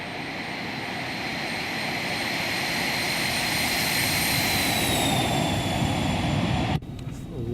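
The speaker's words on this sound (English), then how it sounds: "Love the sounds on this airplane." Embraer Phenom business jet engines roaring steadily through the takeoff roll, a loud sustained whine and rumble that builds slightly before cutting off abruptly near the end.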